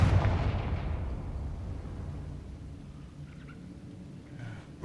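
A Confringo fire spell bursts with a heavy, rumbling blast in a Harry Potter video game, the boom loudest at the start and then rolling into a long, fading roar.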